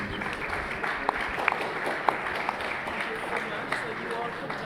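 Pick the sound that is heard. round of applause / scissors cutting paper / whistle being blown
round of applause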